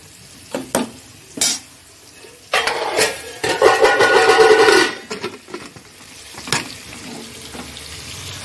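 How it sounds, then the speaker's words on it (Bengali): Potatoes frying in a pan, a nearby sizzle with a louder burst of bubbling and stirring in the middle and scattered clinks of utensils and cookware around it, without any talk. "আর এদিকে আলুটা ভাজা হচ্ছে।"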